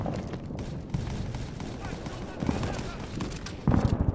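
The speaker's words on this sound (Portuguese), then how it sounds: "Olha o tanto de tiro, galera" Dense in-game gunfire from a World War 2 shooter, a busy wash of shots and bursts running the whole stretch, with a louder cluster of reports near the end.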